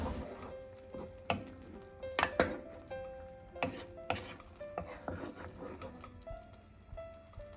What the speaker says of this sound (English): I'm just going to stir this once again and I'll cover